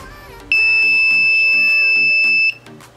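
A homemade seven-segment LED display circuit's electronic buzzer sounds one steady, loud, high-pitched tone for about two seconds over a faint background hum.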